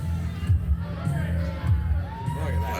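Crowd at a tag-team wrestling match cheering and shouting for a wrestler, a broad roar of voices under close commentator talk.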